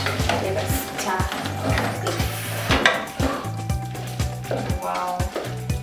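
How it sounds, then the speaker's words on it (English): A utensil stirs wet fry beef with crunchy capsicums in a pot, giving repeated close scraping knocks in a loose rhythm over a soft sizzle. "Let us stir."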